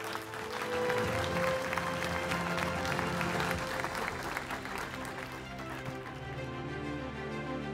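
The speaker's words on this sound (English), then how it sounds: "A big round of applause for those young talents," Applause breaks out for young talents at an award ceremony of the Istanbul Education Summit 2022, with a crowd's dense clapping mixed with music that plays throughout and fades slightly toward the end.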